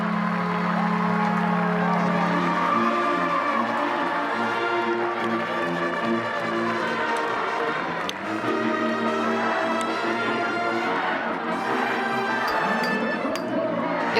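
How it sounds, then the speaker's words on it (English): A crowd at a Clemson women's lacrosse game against Wofford roars after the first goal in the program's history, a dense, loud, continuous wall of cheering and yelling voices that holds steady throughout. "The crowd is going wild."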